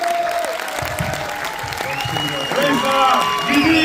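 A cinema audience at a Paris screening with a Q&A claps in a broad, steady wash, while a voice speaks over the clapping and grows louder toward the end.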